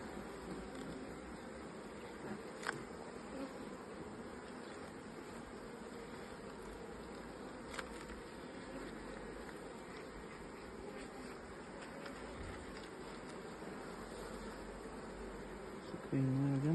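Honey bees buzzing around the frames of an open hive during an inspection, a faint, continuous low hum with occasional handling knocks and a louder bump at the end.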